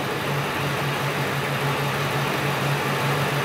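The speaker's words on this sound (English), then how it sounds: "we're actually listening in on that little motor doing its thing with very, very small increments all the time" A small motor heard through a homemade stethoscope probe gives a steady low hum with a faint regular pulsing, continuous and close, with no talk.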